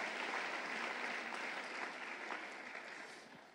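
Church congregation applauding loudly during a sermon, a dense steady wash of many hands clapping that gradually eases off, with no voices over it.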